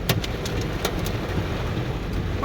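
Heavy storm rain falls with hail, a steady close wash broken by sharp scattered ticks and clatters as hail chunks strike nearby surfaces.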